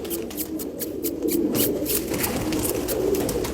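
Soft pigeon coos murmur low and continuous in a bird hospital, with some fluttering and shuffling sounds nearby; no talking.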